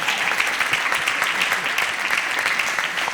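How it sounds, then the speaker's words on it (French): An audience at a French comedy stand-up show applauds in a steady, dense burst of clapping that stays even throughout, with no voices over it. "on applaudit."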